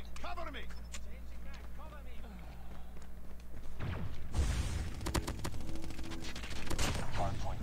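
Rapid gunfire in COD Mobile, bursts fired through a wall, loud and dense over game sound effects after a stretch of talk, with a person speaking throughout.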